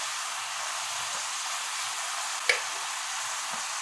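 Eggplant and potato sizzle in hot curry paste in a pan, a steady bright frying hiss with one brief clatter partway through.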